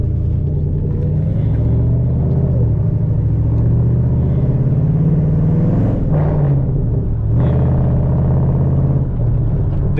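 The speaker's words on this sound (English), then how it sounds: "I basically do got the stock exhaust, but it is straight pipe, so you know it got all that little rumble in the car." Deep, steady exhaust rumble from a 2010 Camaro SS with the L99 engine and straight-pipe stock exhaust, heard from inside the car while cruising, loud and continuous with a couple of brief swells in throttle.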